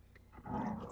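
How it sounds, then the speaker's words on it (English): A pet dog at home growls and yips, a low rumbling vocalization that swells louder in the second half of a brief, close moment, with no talk over it. "that's my dog."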